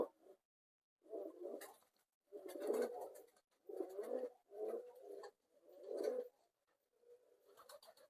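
Fancy pigeons coo close by in five or six soft, throaty bursts separated by short silences, with no talking over them.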